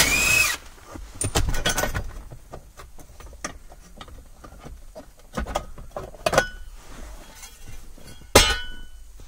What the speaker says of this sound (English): I'm going to remove this small metal cover,